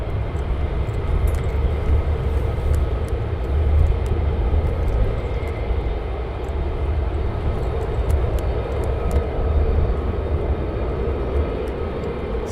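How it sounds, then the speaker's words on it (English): Steady, loud roar of F-15 fighter jets flying near RAF Lakenheath, a continuous broad engine rumble that holds level throughout with no talk. "So we have some F-15s up."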